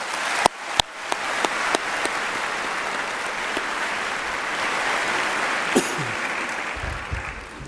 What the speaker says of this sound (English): Please join me in giving the board members a round of applause